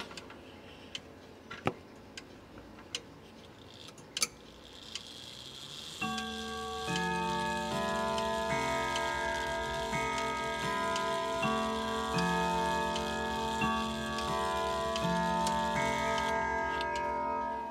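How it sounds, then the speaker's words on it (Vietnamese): An American weight-driven Rigway clock ticks softly and steadily at first, then bursts into a loud, ringing multi-note chime melody that sustains to the end, with no talking. "vừa rồi là âm thanh của chiếc đồng hồ tạ Mỹ với thương hiệu Rigway"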